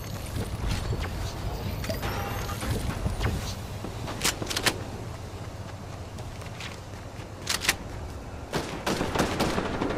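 Gunfire in Fortnite Chapter 3 Season 3 gameplay, a few scattered sharp shots and short bursts popping at moderate distance over a quiet, rustling background.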